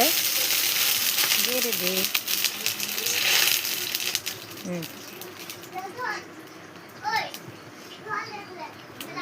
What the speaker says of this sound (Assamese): এতিয়া পানী দি দিছে সি। অলপ অলপ পানী দিছে।